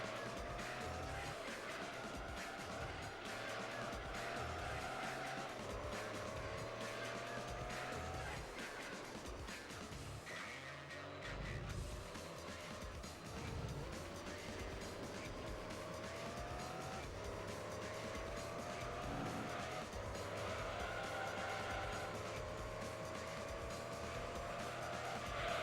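Race car driven in Gran Turismo 3 A-Spec, a car capable of 232 mph racing Japanese Super GT cars: a loud, continuous engine whine that rises and falls through gear shifts, with tire squeal and other cars passing, running steadily throughout.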